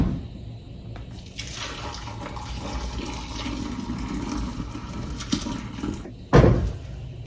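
Pasta water being drained from a pot into a kitchen sink, a steady rushing pour with a louder splashing burst near the end.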